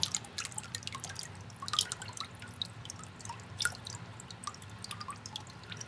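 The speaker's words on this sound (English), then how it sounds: "The water sieves through the screen." Water drips and trickles through the screen of a papermaking mould, a steady faint patter of small drops with a few sharper splashes, heard alone and up close.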